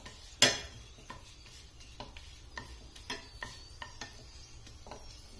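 A papad roasts on a hot pan, giving scattered light taps and scrapes against the metal with a soft crackle, starting with one sharp clack and then quieter irregular ticks, faint and close.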